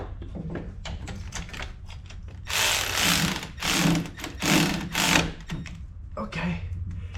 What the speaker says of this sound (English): I always get them finger tightened before I wrench it down. And for this case, my auto wrench worked great.